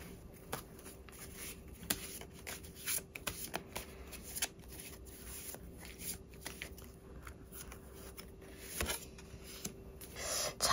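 Tarot cards are shuffled up close for several seconds, a quiet, steady papery riffling and sliding broken by sharper snaps and flicks, with a faint constant tone in the background.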